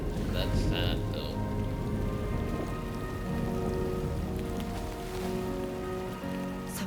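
Steady rain falls in the video game Death Stranding 2, a dense continuous hiss of drops on surfaces with sustained tonal layers running underneath throughout.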